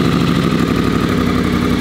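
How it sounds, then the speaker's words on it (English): A custom wide wheel bobber motorcycle with standard headers and valved exhaust runs with the exhaust valve shut, gases routed through the silencers, making a loud, close, steady rhythmic engine thrum. "This is with the valve shut, so the valve is shut right now, and the exhaust gases are traveling around the valve and coming through the silencer"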